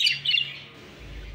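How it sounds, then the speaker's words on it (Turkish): A young Texas pigeon, five to six months old, gives a short, high call lasting about a second, followed by a low rumble. "Güzel bir Texas yavru daha bu kuş."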